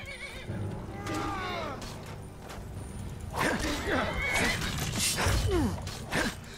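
A horse in Skyrim whinnies and neighs repeatedly, shrill descending calls over hoof clops and combat noise, moderately close, with people talking in the clip.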